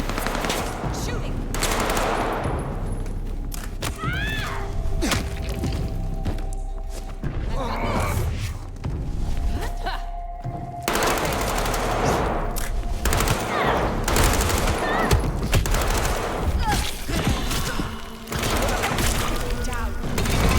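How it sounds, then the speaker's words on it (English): Video game gunfire in Vampire the Masquerade Bloodlines 2: loud bursts of automatic fire and sharp shots, mixed with thuds and shattering impacts, as voices shout over the chaotic fight. "Shooting!"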